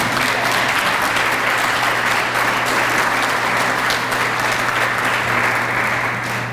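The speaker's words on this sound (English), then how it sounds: "Why don't we give ourselves a round of applause for that alone." Sustained applause from an audience at an annual awards dinner, a dense steady wash of many hands clapping at even loudness throughout, with no voices standing out.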